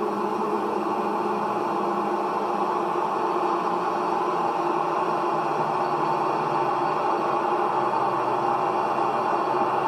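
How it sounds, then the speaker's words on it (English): Steady broadband whine and hum on a BAe 146 flight deck as the flaps travel to 18 degrees, a continuous even drone without breaks or voices. "The noise you hear is the flap travelling."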